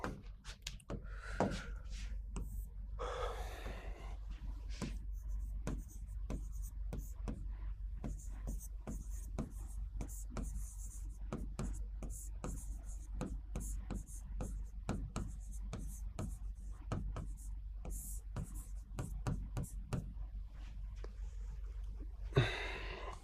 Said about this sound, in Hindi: ये भी लिख लेता हूं मैं